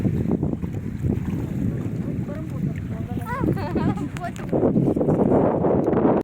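A boat crosses open water on a ride at Somasila, with steady wind rumble buffeting the microphone and voices talking and calling over the engine and water noise.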